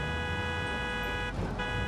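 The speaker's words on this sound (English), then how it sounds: "Also, I found out if you honk," A taxi's car horn in a driving video game blares as a steady, sustained honk that runs through the whole stretch, loud and alone with no talk over it.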